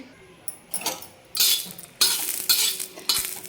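Green chillies sizzle and crackle in hot oil on a griddle pan, stirred with a utensil in several loud bursts of scraping and frying, close up, with no talking.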